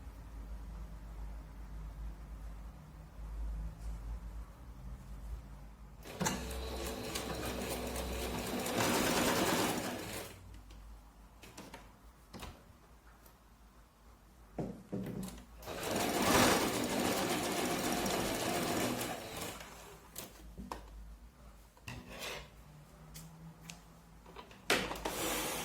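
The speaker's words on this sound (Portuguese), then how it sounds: "E eu vou passar uma costura em cima aqui do meu risco." A home sewing machine stitches a seam in fabric in two sustained runs of several seconds each, with short bursts and pauses between, fairly close and steady while running.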